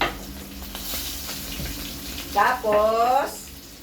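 Coconut water pours and splashes close by in a short gurgling burst, over a low background hum.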